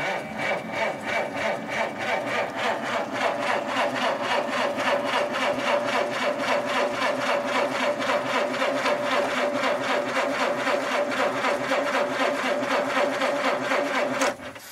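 An old car engine cranks over and over without catching, a rapid rhythmic starter churn held steady and close for about fourteen seconds before cutting off abruptly.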